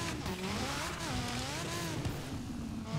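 A video game car engine drones and strains steadily, its pitch wavering up and down, with a constant rumbling mechanical noise and no voices.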